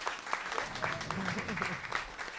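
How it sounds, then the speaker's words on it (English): Audience at a jazz history talk clapping in a short burst of scattered applause, mixed with some voices. "Ms. Maxine Gordon, give her a big hand of applause."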